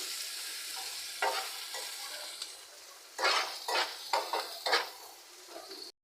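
Oil and a little onion hit a hot pan and sizzle steadily while a utensil scrapes and stirs. A quieter stretch gives way to a run of louder, rhythmic stirring strokes before the sound cuts off abruptly.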